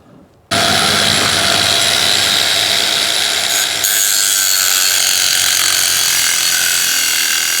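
A 4.5-inch angle grinder with a steel-rated cutoff wheel spinning at 7,000 RPM bites into a hardened steel bulletproof lock from Icon, starting abruptly and holding a loud, continuous grinding whine.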